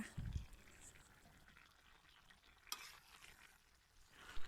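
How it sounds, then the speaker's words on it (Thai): Pork belly red curry with cumin leaves and holy basil is stirred in a pan, with soft, close scraping and a faint sizzle, a single sharp clink partway through, and no talk. "คนทุกอย่างให้เข้ากันดีอีกครั้งหนึ่งนะคะ พอให้ใบกะเพรากับใบยี่หร่าพอสุกก็พอค่ะ"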